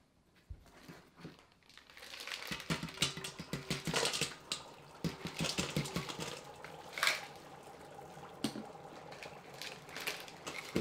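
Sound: dry ice bubbling in water

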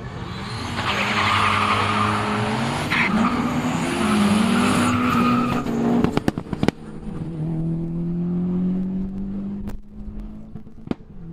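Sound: Opel Astra F GSI Turbo racing Audi A3 180 Quattro, quarter mile

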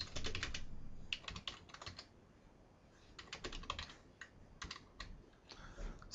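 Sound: typing on a computer keyboard

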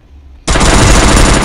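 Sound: gunfire from the Free Fire MAX video game

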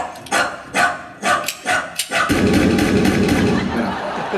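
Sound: performer imitating a big dog barking

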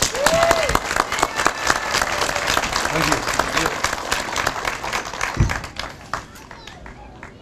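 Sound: audience applause for a veteran

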